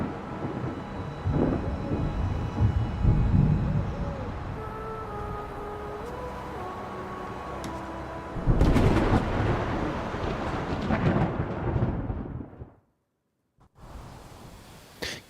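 Thunder from an approaching storm in Kingdom Come Deliverance 2 rumbles in deep, heavy rolls, then a loud crack and long grumble follow before a sudden silence.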